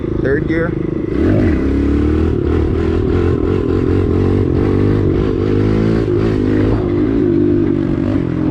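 Kawasaki KLX 110L dirt bike ridden in third gear on a practice road, a steady mid-pitched engine drone with rising and falling revs, loud and close, with someone talking over it.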